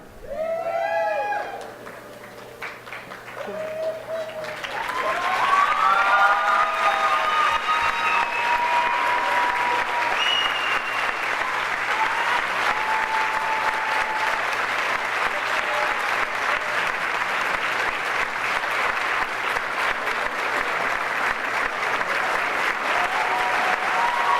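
An audience at a high school academic awards night applauds at length, a steady, full wash of clapping that holds for over twenty seconds after a brief moment of voices.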